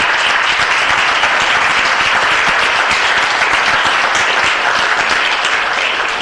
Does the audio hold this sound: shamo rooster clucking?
no